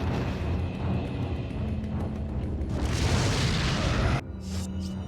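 Incendiary grenades go off in the video game Resident Evil 4, producing loud, deep booming blasts that roll into a sustained rumble before cutting off abruptly near the end.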